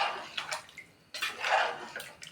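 Water is poured from a vessel into a pot of rice for chicken biryani, giving two soft splashing bursts with a brief gap between them, close and fairly quiet, with no talking.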